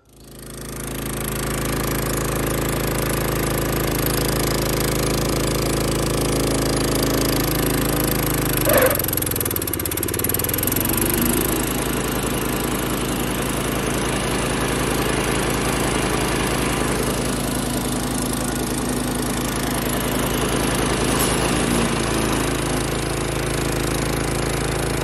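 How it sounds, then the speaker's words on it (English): A DR walk-behind trimmer mower fitted with a Beaver Blade runs loud and steady throughout, its harsh engine roar briefly dipping in pitch partway through as it bites into growth on a homestead. "let's see what this Beaver Blade can do"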